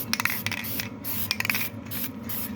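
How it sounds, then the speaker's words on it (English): Short bursts of aerosol rust penetrant hiss onto the back of a wheel hub on a Chevy Colorado, several quick sprays in an uneven rhythm over a faint background hum. "I'm just going to spray the back side of the hub"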